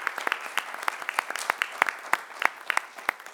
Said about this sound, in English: So if you'd please give Alex Duran a nice round of applause.